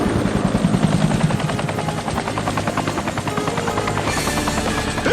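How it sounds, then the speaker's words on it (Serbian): A helicopter in a Transformers Armada cartoon flies close and loud, its rotor chopping steadily throughout and a brighter whoosh swelling near the end. "Helikopter!"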